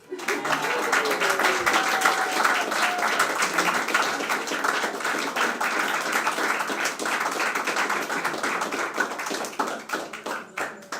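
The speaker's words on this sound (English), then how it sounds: "another round of applause for the new Mr." Sustained applause from wedding guests for the newlyweds, a dense, steady clatter of many hands clapping for about ten seconds at moderate loudness.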